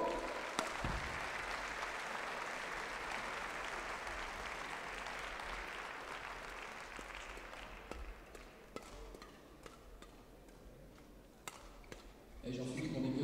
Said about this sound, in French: Nos applaudissements pour Peng Sun-Chan.